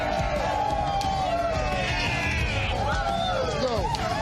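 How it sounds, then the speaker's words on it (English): A large, loud crowd cheers and whoops continuously at a Georgia political rally, with rising shouts and excited voices layered over a dense roar of babble. "We got a big crowd here today."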